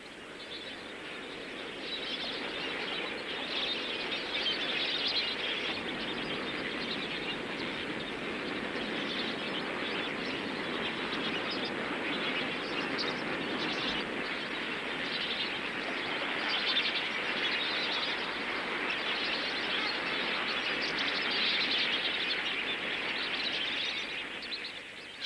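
Flamingos on a soda lake call en masse, a dense unbroken honking babble from a huge flock filling the air steadily for the whole stretch, with no speech.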